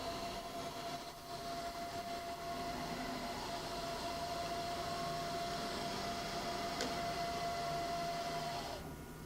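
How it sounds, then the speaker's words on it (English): A Sharp OMV CNC vertical mill with a 3HP R8 spindle runs in high range, producing a quiet, steady whine with a constant tonal hum and faint mechanical noise, no voices present. "We're running the spindle right now. It's an R8. In the high range."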